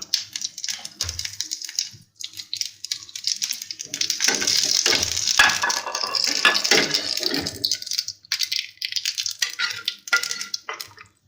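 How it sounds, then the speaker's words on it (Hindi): Crackly sizzling of seeds hitting hot oil, bursting in uneven spurts and swelling midway, with light scraping and clinks nearby. "अब हम इसमें शामिल करेंगे ज़ीरा और इसको हल्का सा हम तड़का लगा लेंगे।"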